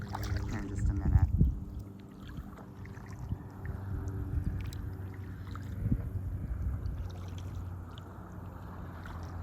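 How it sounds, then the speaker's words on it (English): A motorboat speeds through a no-wake zone on the Saint Johns River, heard from a kayak. A low engine rumble runs throughout, with surging water and wash that swell near the start and again midway, at moderate distance. "This is a no wake zone and this boat is flying down here."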